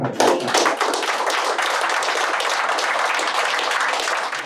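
Applause for a speaker at the close of a French talk about the metaverse, a dense, steady wash of many hands clapping that stays loud and unbroken throughout, with no voices over it.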